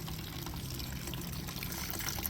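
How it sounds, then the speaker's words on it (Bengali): A child splashes and plays in water from a running tap at home: a steady, continuous gush and spatter of water, fairly close and even throughout, with no voices over it. "সেটা নিয়ে জল ঘাঁটছে দেখো জল ঘাঁটতে পেলে ও আর কিচ্ছু যায় না"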